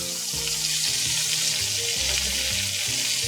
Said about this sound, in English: Trying once again to get that sear on all sides before introducing it into the oven.